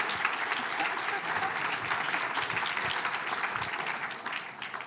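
Steady applause from an audience at a stage event, many hands clapping continuously at moderate loudness without a break.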